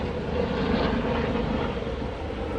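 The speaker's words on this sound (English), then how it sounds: "The plane, really?" Airplane engine droning overhead, a steady broadband roar that holds constant and fairly loud throughout, with no voices.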